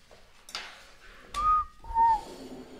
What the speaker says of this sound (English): Shouldn't have whistled.